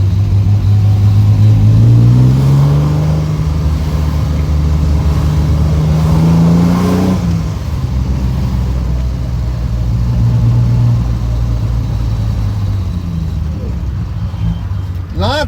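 A Triumph TR6 engine, heard from inside the car, rises in pitch as it revs and accelerates, drops back at a gear change, then pulls again; someone talks over the steady, loud drone.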